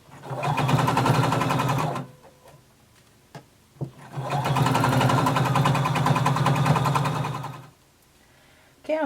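A sewing machine sews a collar onto a jacket in two long runs of rhythmic motor whirring, separated by a quiet gap with a few small clicks, ending in silence.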